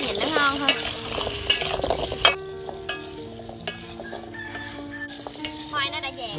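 Potatoes fry in hot oil in a Vietnamese home kitchen with a continuous sizzle, broken by clinks and scrapes from stirring and a few brief squeaky tones.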